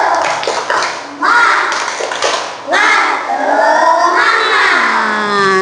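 Schoolchildren in a classroom perform the 'tepuk semangat' spirit clap, loud rhythmic hand claps mixed with chanted voices in several short bursts, close and energetic.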